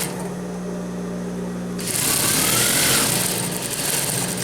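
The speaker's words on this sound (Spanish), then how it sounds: "vamos a coser el tiro trasero con nuestra guía de costura a 1 centímetro de arriba" Sewing machine stitching the back rise of women's basic trousers, a steady mechanical whir that starts quietly, then runs louder and denser from about two seconds, continuous with no voices.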